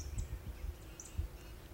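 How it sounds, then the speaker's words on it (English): Faint birds chirp a few times in the distance over a quiet, low outdoor rumble. "listen to the birds chirping"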